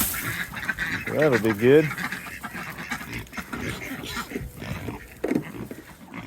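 Farm ducks give a short burst of loud honking quacks close by, then a fainter call a few seconds later, with a person talking over outdoor background noise.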